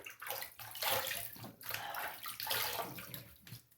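Running water rinses a stainless steel or aluminum safety razor under a tap, a steady close splashing rush with brief dips and surges as the head moves through the stream.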